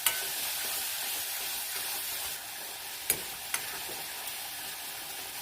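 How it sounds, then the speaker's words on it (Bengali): Tomato sautés in oil for a catla fish gravy, with a soft, even sizzle and a few sharp spatula taps against the pan; quiet, with no talking. "এবার আমি টমেটোটা দিয়ে দিলাম। এটা বেশ খানিকক্ষণ কষতে হবে।"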